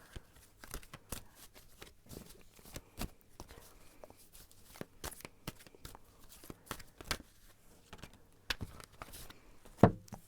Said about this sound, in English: I'm gonna shuffle and see what the cards have to say.